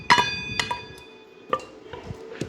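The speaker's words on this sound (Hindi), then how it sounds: "ये जो सब्ज़ धनिया थे इनको हम अच्छे तरीके से कूटेंगे" Fresh coriander and mint are pounded by hand for chicken shami kabab: a handful of sharp, close knocks with ringing metallic overtones, spaced irregularly and followed by softer thuds.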